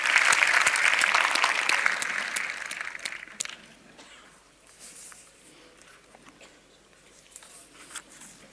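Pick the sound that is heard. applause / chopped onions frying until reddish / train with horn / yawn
applause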